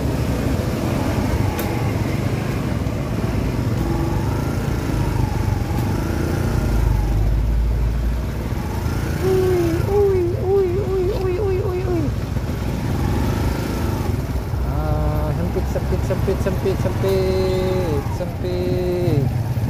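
Busy congested Trans-Sumatra Highway traffic jam with idling and revving motorcycle and car engines close by, occasional horn-like tones, and people talking over the traffic.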